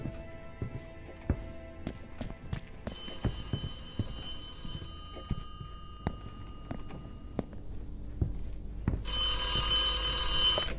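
Public payphone in the video game The Occupation rings with repeated bell trills over clicking, clopping footsteps-like knocks and a musical backdrop, fairly close and sustained.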